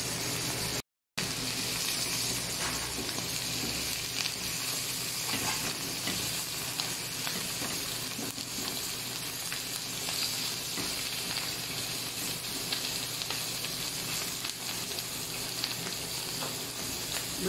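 Food fries in a pan with a steady, dense sizzle and hiss that holds throughout, close and even, with no one speaking.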